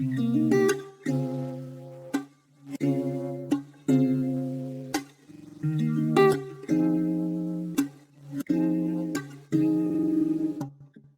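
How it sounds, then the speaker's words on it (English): A plucked guitar loop repeats in short chordal phrases, with swirling, pulsing effects and sharp rhythmic accents, played alone and fairly close. "I've got a few effects adding some movement to this guitar loop"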